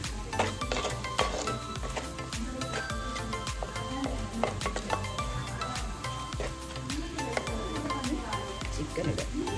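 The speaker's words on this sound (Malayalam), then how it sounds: "നല്ലവണ്ണം ഒരു ബ്രൗൺ കളർ ആവുന്നവരെ ഇളക്കുക." Curry ingredients for a Palakkad-style Kerala chicken curry are stirred in a pan until browned, giving repeated scraping and clinking strokes over a steady low sizzle, close and moderately loud, with no voice.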